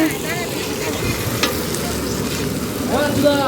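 Khichuri cooking in a big pot at a neighbourhood Kali Puja, a continuous hissing, bubbling cook noise with stirring, while people talk in the background.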